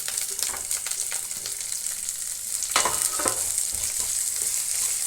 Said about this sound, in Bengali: এইবার আমি পেঁয়াজটাকে একটু ভাজছি।